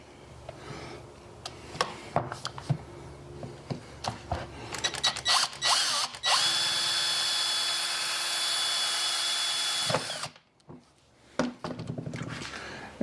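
A power drill bores a hole in a Jeep Gladiator: scattered clicks and handling knocks, then a loud sustained whining drill run of about four seconds that stops abruptly, followed by a few more taps.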